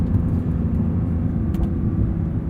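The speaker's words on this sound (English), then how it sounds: "And just listen to that flat six." A low, steady engine rumble from a 2022 Porsche 911 GT3 with manual gearbox and flat-six engine driving, droning evenly without clear revving.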